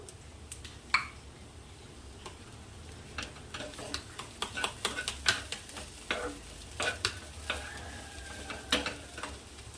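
Sesame chutney is stirred and roasted in a pan with salt, giving soft scraping and a faint sizzle in an uneven rhythm, close and quiet.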